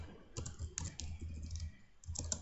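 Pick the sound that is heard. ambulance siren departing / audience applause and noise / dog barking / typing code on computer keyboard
typing code on computer keyboard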